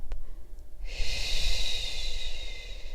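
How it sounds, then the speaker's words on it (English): A long, steady pursed-lip exhale hisses close to the microphone for about two seconds during a breathing exercise, following a softer nasal inhale. "inhaling through the nose, mouth is closed. As you exhale, pursed lip."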